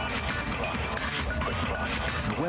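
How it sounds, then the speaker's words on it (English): Glass fish tank smashing in a video game, a dense crashing, shattering burst that stays loud and steady throughout, with game sounds layered beneath. "Something about the fish tank. Broken glass."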